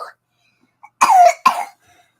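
Two quick, close coughs in a row, sharp and loud against an otherwise quiet room.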